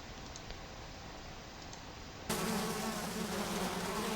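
Bees buzz in the Zork: Grand Inquisitor video game, a faint steady drone that abruptly grows louder and fuller partway through, continuing without speech.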